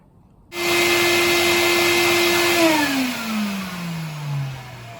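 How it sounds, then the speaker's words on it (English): A vacuum cleaner kicks on abruptly and hoovers the headlining of an MG ZR car, holding a loud steady whine before its pitch sags lower as the nozzle drags against the fabric. "so hoovering done"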